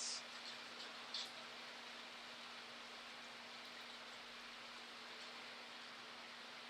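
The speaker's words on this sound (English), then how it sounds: "I decided to open the window today because it's raining, and I thought I would like to have a rain background in my video today." Rain falling outside an open window gives a faint, steady broadband hiss throughout, with a low constant hum beneath it and no voices.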